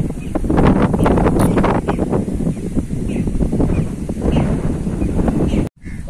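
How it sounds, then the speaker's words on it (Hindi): Strong wind blowing outdoors ahead of a dust storm, a loud, continuous gusting roar with rustling and buffeting against the microphone that drops out abruptly near the end. "शदीद हवा चलना स्टार्ट हो गई है, अब आंधी आने के चांसेस बहुत ज्यादा हैं, क्योंकि शदीद हवा चल रही है"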